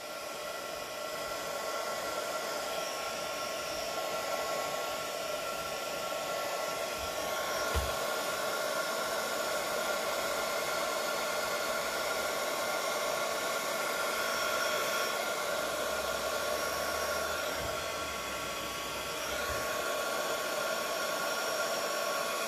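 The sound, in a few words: heat tool blowing hot air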